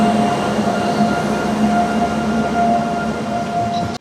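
Kanchenjunga Express 13175, bound for North Bengal, rolls past up close with a loud, steady rumble and a faint metallic whine, holding constant for the full stretch.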